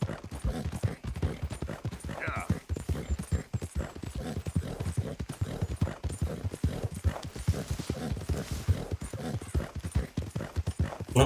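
Horse hooves clip-clopping steadily in Red Dead Redemption 2, a fast regular gallop rhythm close up and loud, with occasional faint talk over it.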